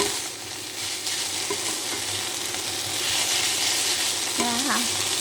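Fiddlehead fern stir-fried in oil hisses with a steady, fairly loud sizzle throughout, with a brief clink of a utensil against the pan near the end.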